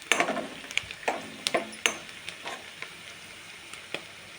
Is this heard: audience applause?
no